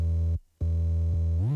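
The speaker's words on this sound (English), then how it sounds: "For your basses, start out with a nice clicky 808." Deep clicky 808 bass in a trap remix, a loud sustained tone cut by a short gap, restarting and sliding upward near the end, with nothing else playing.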